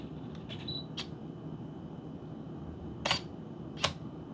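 A camera shutter fired by a Horusbennu RS-910 wired remote release gives a few short, crisp mechanical clicks over a low room hum, one early and two more spaced apart near the end.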